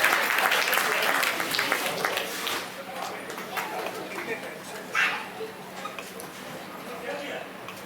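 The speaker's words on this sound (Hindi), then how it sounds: "जोरदार तालियों से आपका सम्मान सत्य प्रकाश जी सोनी" An audience at a Rajasthan award ceremony applauds a blood-donor honoree, with loud clapping at the start that thins and fades while voices and a dog's bark carry over the hall.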